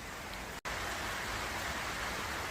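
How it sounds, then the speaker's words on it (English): Rain falls steadily outdoors, a dense even hiss of drops lasting throughout, broken by one very brief cut in the sound near the start. "still got a fair bit of rain going on there"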